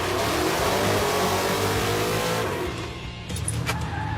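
High-horsepower muscle truck with four-link suspension driving hard, a loud, continuous engine roar near and steady through the first half, then easing off and fading slightly, with no voices.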